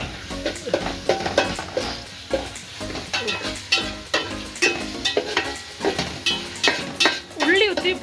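Ginger garlic paste sizzling and frying in a pan at home, with steady crackling and repeated stirring scrapes of a utensil against the pan, loud and close throughout.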